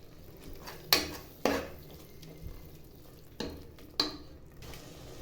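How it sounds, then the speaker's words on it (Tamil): Chicken biryani masala being stirred and sautéed in a pan after garam masala is added, with a low sizzle throughout and several sharp spoon-against-pan scrapes and clanks at irregular intervals, close and without talk. "கொஞ்சமாக சேர்த்து நல்லா வதக்கிக்கலாம்."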